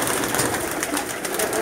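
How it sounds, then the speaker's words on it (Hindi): A domestic pigeon of an old breed coos close by, with a steady soft layer of cooing running through the short stretch alongside other loft noise. "कबूतर"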